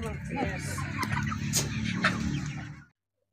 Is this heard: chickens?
yes